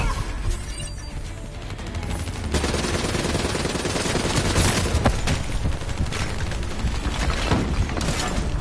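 Sustained turret machine-gun fire in the Black Ops 3 campaign, a dense, loud, continuous rattle of rapid shots with crashing impacts, growing heavier after the first couple of seconds and pounding on without pause.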